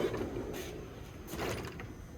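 A socket drawer on a large 73-inch ICON toolbox slides open with a couple of short metallic rolling swishes, close and fairly quiet, and no talking.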